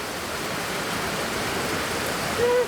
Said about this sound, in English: This is a lot more rain than I thought.